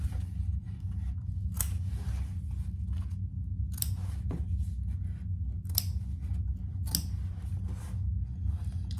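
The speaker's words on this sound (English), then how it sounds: "And I cut 1/4 to 1/8 of an inch, close to that seam that we just did on the outside." Scissors snipping bag fabric close to a seam, five or six crisp separate cuts spaced a second or two apart over a low steady background hum.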